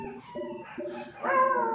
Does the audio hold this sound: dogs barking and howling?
yes